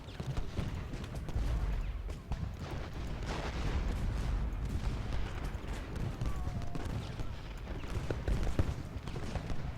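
Civil War artillery and musket fire in the Ultimate General: Gettysburg strategy game, a steady rumbling fusillade of distant cannon booms and crackling volleys that rolls on without pause.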